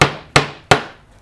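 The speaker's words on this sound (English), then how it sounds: "I'll get a hammer." Three sharp hammer strikes during a simple art display project, evenly spaced about a third of a second apart, loud and close, each ringing briefly before the next blow.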